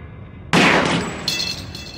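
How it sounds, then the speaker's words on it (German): A single gunshot in the Black Mirror video game breaks a padlock, a sharp loud blast followed by a fading metallic ring and a short clattering tail. "Ich muss gut zielen und die schwächste Stelle des Schlosses treffen."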